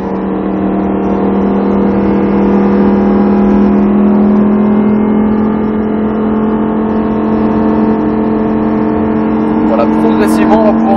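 A Lamborghini Huracan engine drones steadily and rises slowly as it accelerates on the Circuit Salon de Provence, loud and close, with a voice speaking over it.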